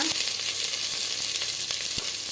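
Steady, dense sizzling of onions frying in a hot pan, with a few faint clinks and stirring knocks over the continuous crackle.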